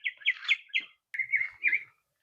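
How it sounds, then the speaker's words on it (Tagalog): Small birds chirp and tweet in a vegetable garden where tomatoes, zucchini and ampalaya grow, with bright quick calls in two short bursts, fairly close and clear, and no talking. "Nagkanta-kanta na yung ibon"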